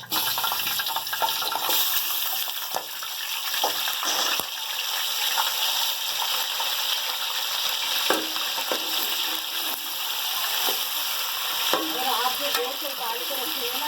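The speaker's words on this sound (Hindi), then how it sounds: "ये हम सब प्याज वाले तेल में हम ये फ्राई चिकन करेंगे।" Chicken pieces frying in onion-flavoured oil in a pot, a loud continuous close sizzle with occasional stirring scrapes and bubbling bursts, no voices.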